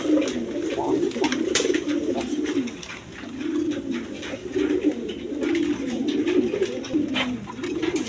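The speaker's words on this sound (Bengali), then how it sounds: "এখানে এক পেয়ার ফ্যান্টাল কবুতর আছে দেখেন" A pair of American fantail pigeons in surma colouring coo continuously at close range, their soft, throaty rolling calls repeating in overlapping phrases over a faint background hiss.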